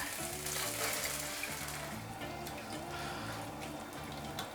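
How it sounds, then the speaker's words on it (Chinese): Sauce sizzles and bubbles in a pan as shallot, ketchup and water are stir-fried over low heat, a steady close frying hiss with soft stirring scrapes and no talk. "小火给它炒香以后，倒点番茄沙司。"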